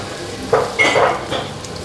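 Garlic dropped into hot oil for an Indonesian stir-fry of goat with tamarind, giving a couple of sharp sizzling bursts that settle into a soft, close crackle with no talk.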